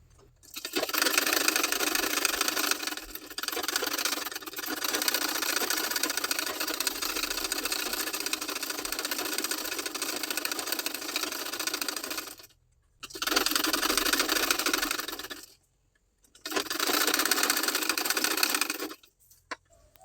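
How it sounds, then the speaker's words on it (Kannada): Bursts of a sewing machine stitching around a pinned neckline on a garment, a steady close whirring run for about twelve seconds, then two shorter runs separated by pauses. "ಈಗ ಇದನ್ನು ಸ್ಟಿಚ್ ಮಾಡ್ಕೊಳ್ಳೋಣ."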